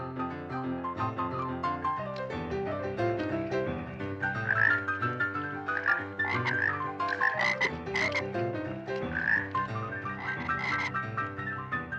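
A dense chorus of frogs croaks continuously, many overlapping rasping calls in an uneven rhythm, close and fairly loud, with no voices.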